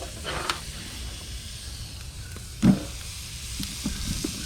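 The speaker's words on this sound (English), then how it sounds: "See that sizzle." Thick-cut ribeye steaks sizzling over a hot fire on a grill, a steady close hiss under faint background noise, with one brief louder pop partway through.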